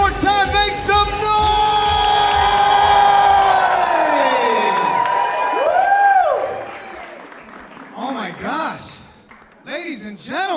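Wedding guests cheer, whoop and shout loudly at a reception, the crowd noise swelling over several seconds and then fading into scattered calls and whistles, with a voice in the mix.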